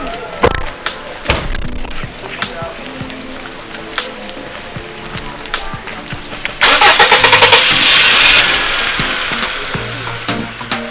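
A car is heard close by: scattered clicks and knocks first, then the engine cranks and catches into a loud revving roar that gradually eases off.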